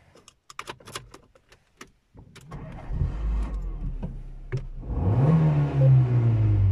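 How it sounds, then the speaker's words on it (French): A few clicks and rattles come first, then a Dacia Logan's engine cranks and catches, settling into a loud, steady idle with a brief rev close by. "nous allons démarrer le moteur ensemble"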